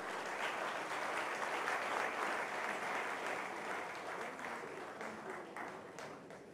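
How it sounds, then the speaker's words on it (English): Audience at the India Today Conclave 2013 applauding the speakers, a loud sustained wash of clapping from a large crowd that fades slightly toward the end. "Can we have a round of applause for all of them?"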